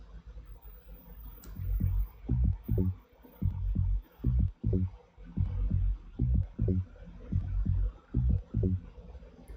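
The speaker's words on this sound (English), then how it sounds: "The bass sound itself sounds like this." A repetitive rolling bass line from a minimal house track made in Ableton 12: deep, punchy pulses repeat in a steady groovy pattern, loud and close, with no other sounds.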